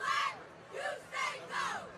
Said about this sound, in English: the cheerleaders getting the crowd to chant a little bit